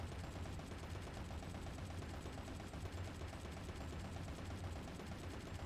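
Rapid, continuous gunfire from the video game Bayonetta, a dense, steady rattle of shots that never lets up, heard at a low, even level with no pauses.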